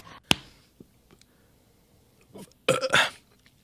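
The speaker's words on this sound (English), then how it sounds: "What's with the burping?" Several burps, one sharp early belch and a louder cluster of rough burps near the end, with quiet gaps between them and no talking.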